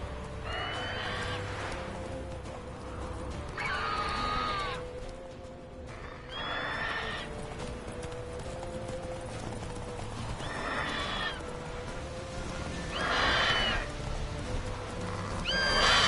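A horse in the video game Witcher 3 whinnies several times over steady clip-clopping hooves and a constant ambient background.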